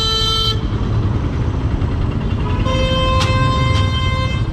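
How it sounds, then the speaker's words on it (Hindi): Car horns honk in dense roadway traffic on the Pathankot bypass toward Jammu, a long blaring horn at the start and several more toots later over a steady, loud engine and road roar. "ट्रैफिक बहुत ज़्यादा है यहाँ"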